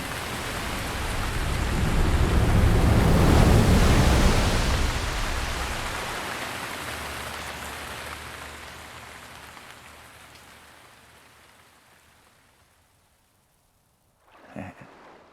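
A broad rushing wash of water spouting from Divine Beast Vah Ruta in Zelda: Breath of the Wild, swelling loud, then slowly fading away to near silence, followed by a short sharp sound at the end.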